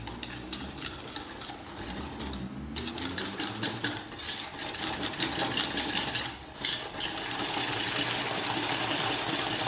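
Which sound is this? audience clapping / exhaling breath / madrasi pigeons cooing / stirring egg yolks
stirring egg yolks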